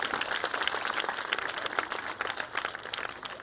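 A congregation claps for the Lord during a church service, a steady, fairly distant wash of many hands clapping with no talk over it.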